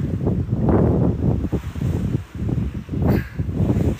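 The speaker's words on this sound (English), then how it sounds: "It's a bit windier than I'd anticipated" Gusty wind buffets the microphone beside the River Thames during a fishing session, a steady low roar swelling and easing in loud, near waves with no talk.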